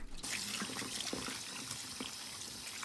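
Hot water runs from a tap into a bowl of cabbage and salt, a steady close splashing and trickling stream with a few drips, no voices.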